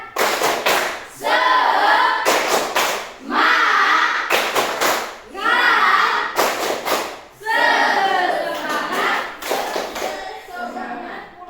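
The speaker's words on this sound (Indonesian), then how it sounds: "Tepuk semangat." A group of people does a rhythmic spirit clap in an Indonesian classroom. Loud bursts of patterned clapping come in several separate rounds with short pauses between them, and voices chant along with the claps.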